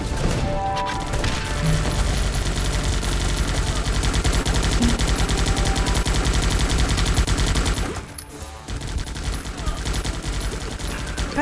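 Dense, continuous gunfire in the video game Guns Up! forms a loud, chaotic barrage of rapid shots and blasts, dipping briefly before resuming.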